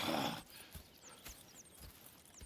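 Horses in the Western video game Red Dead Redemption 2, heard as a soft rhythmic clip-clop of hooves with faint snorts, starting after a brief louder noise burst at the beginning.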